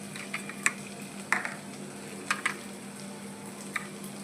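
A capsicum egg curry is stirred in a frying pan, with faint sizzling beneath a handful of soft, scattered scraping clicks from the spoon, no voices.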